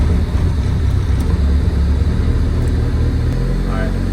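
A Honda Civic engine idles steadily close by, a loud continuous low rumble while waiting for the cooling fans to come on, with a voice briefly audible over it.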